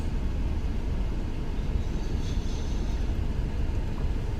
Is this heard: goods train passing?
yes